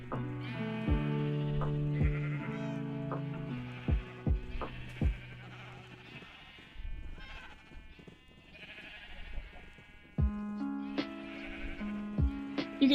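Several sheep bleat in a long series of wavering, drawn-out calls, some near and loud, others fainter, with a couple of quiet gaps between bursts and a steady background hum, no talking.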